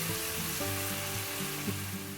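Marinated chicken for a yogurt chicken dish fries in a pan with Kashmiri chili powder and spices, a faint steady sizzle beneath background music.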